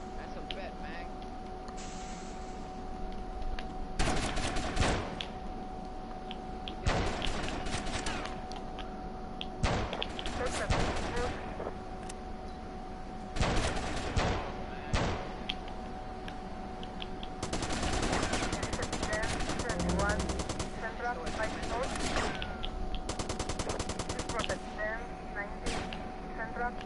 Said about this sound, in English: Who the fuck is shooting at me now?